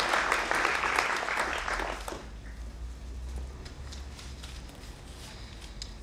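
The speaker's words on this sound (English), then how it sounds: "Please give yourselves a round of applause." Audience applause at a city presentation on the Asian longhorn beetle, a dense burst of clapping for the first two seconds that fades to scattered claps and room murmur.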